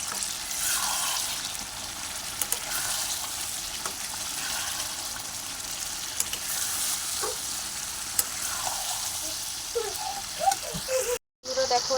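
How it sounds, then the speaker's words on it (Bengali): Chicken pieces sizzle in hot oil in a pan while being cooked down, giving a steady, loud broadband fry with occasional spatters and stirring scrapes, a voice talking over it, and a brief dropout near the end. "আমি এই যে চিকেনটা এবারে দিয়ে দিচ্ছি চিকেনটা দিয়ে এবারে কষিয়ে নেবো একটু ভালো করে"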